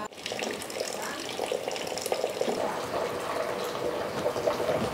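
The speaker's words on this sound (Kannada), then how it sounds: "ಇದರ ತೆಳಿಯೆಲ್ಲ ಹೋಗಿ ನೀರು ಖಾಲಿ ಆಗ್ತಾ ಉಂಟು ನೋಡಿ" Starch water pouring off freshly cooked rice as it is drained for lemon rice in a home kitchen, a steady close splashing gush of water running continuously throughout.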